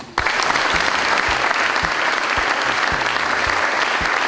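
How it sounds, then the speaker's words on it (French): Warm applause at an official presentation of the French building-trades delegation at a skills olympiad, a full crowd clapping that bursts in abruptly and stays dense and loud, with some low thumps beneath. "le pôle BTP a chaleureusement été applaudi"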